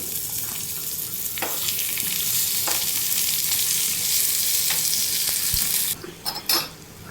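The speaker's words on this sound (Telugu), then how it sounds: "చిన్నగా తరిగిన ఆనియన్ కూడా ఇందులో వేసి ఫ్రై చేయాలండి." Finely chopped onion fries in a pan with a steady, close hiss of sizzling oil, and a few scrapes and clatters break in near the end.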